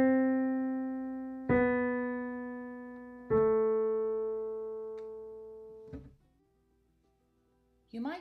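Three sustained single notes, Middle C, then B, then A, sounding one after another with sharp attacks about every two seconds, each ringing cleanly and fading; the last one cuts off abruptly before a brief sound at the end.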